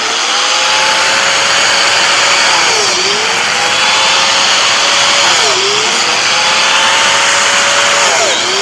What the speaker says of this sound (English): now we cut it biscuit joiner up like this